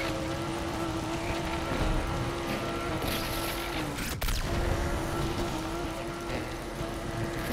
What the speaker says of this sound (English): Now we're just gonna do some drifts around here.